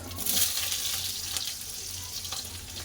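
Potato pieces frying in hot oil in a pan with a steady, close sizzle and occasional stirring scrapes, no voices.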